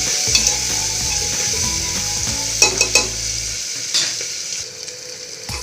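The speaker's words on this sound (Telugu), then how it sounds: "సన్నగా కట్ చేసుకున్న ఉల్లిపాయలు కూడా చక్కగా గోల్డెన్ బ్రౌన్ కలర్ వచ్చే వరకు వేపుకోవాలి." Thinly sliced onions fry in hot oil toward golden brown, a continuous close sizzle with a few sharp utensil clinks and stirring scrapes partway through.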